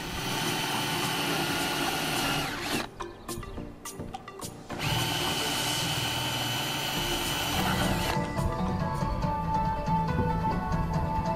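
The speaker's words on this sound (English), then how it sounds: "drilled the hole through the deck" Power drill boring a hole through a boat deck: a loud, continuous whine that drops away briefly mid-clip and then resumes at full strength, close and steady, with no speech.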